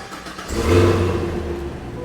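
A Cadillac Blackwing engine revs up once, rising to a throaty peak and then settling into a steady mid-pitched hum, fairly close.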